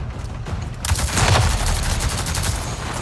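Automatic turret gunfire from Avatar: Frontiers of Pandora, a dense run of rapid shots that swells after the first second and keeps firing steadily, loud and close, with no talk.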